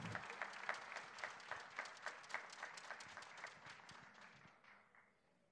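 Audience applause for the soloist at the Santa Cecilia festival concert: steady, dense clapping from a crowd, strong at first and then gradually tapering off and fading toward the end.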